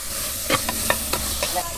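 Ginger, garlic, green chilli, crushed shallots and tomato frying in coconut oil, with a steady low sizzle broken by several short stirring scrapes and clatters close by.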